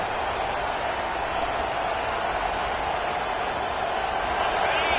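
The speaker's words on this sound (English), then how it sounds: "And the crowd coming to life here, trying to help this defense down in the red zone." Stadium crowd noise from a college football video game, a steady broad roar of cheering fans swelling through a red-zone defensive stand, continuous and fairly loud with no talk over it.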